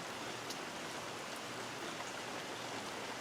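Steady rain pours down in Prescott, Arizona, a dense, even wash of hiss with a few brighter drop splashes, continuous and close with no voices.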